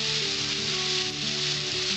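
Bitter gourd and potato slices fry in oil in a pan, making a continuous, even hiss of sizzling that stays close and moderately loud throughout, with no one speaking.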